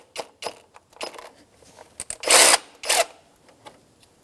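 A 12mm socket ratchets and turns on the A/C belt tensioner pulley nut of a 2004-2009 Subaru Outback, with short metallic clicks and rattles in uneven bursts and a couple of longer, louder grinding spins, close up.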